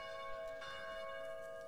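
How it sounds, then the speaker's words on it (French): Church bells ring with a sustained, sonorous tone rich in overtones, heard faintly and steadily at a distance. "Fais pas sonner les cloches."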